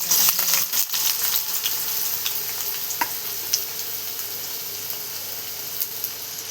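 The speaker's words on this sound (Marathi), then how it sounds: "कढईत तेल टाकले. तेलामध्ये बघा कांदा टाकला" Chopped onion sizzling in hot oil in a kadhai for methi bhaji, a close, continuous crackling fry dotted with sharp ticks and light stirring clicks, with no talking.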